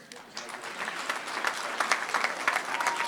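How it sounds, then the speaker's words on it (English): Applause from a board meeting audience, clapping that swells after a quiet start and stays steady and moderately loud, with scattered crowd noise. "If you could give all of them a round of applause"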